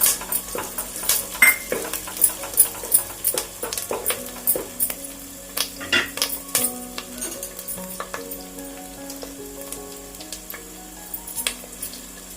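Onions and curry leaves fry in a pan for fish curry, a bright steady sizzle under frequent metal spatula scrapes and clinks against the pan, close and busy, without talking.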